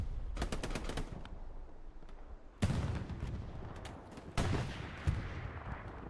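Gunfire in the console shooter Hell Let Loose, a competitive league match: bursts of rapid shots and several sharp, loud reports spaced over a few seconds, with a rumbling background and no voices.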